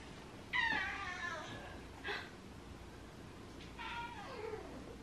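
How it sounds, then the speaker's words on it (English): A talkative, very loud house cat meows indoors, three drawn-out meows with a short chirp between them, close to the listener over a quiet background. "she's like the loudest cat in the entire"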